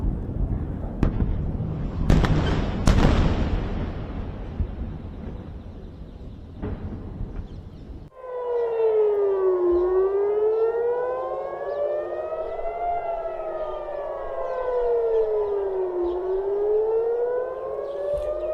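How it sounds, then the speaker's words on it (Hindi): Air raid sirens wail across Israel during an Iranian missile attack, preceded by sharp bangs and crackling blasts, then a long rising-and-falling civil defense siren tone sweeping steadily, loud and sustained with several sirens overlapping. "सेंट्रल और दक्षिणी इजरायल में सायरन बजे हैं"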